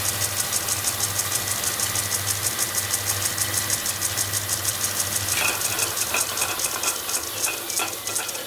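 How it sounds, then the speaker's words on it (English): A Lorch lathe driven in reverse by an electronic lead screw gives a steady mechanical whir with a low hum and faint rhythmic ticking, shifting in tone partway through, with no one talking. "that's reversing using the display and the feed screw"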